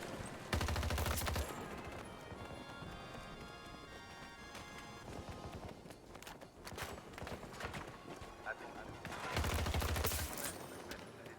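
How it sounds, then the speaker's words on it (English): Gunfire in the Battlefield 2042 video game, faint and distant: rapid bursts of shots stand out near the start and again near the end over a busy, low game ambience. "Am I getting sniped? I think I'm getting sniped."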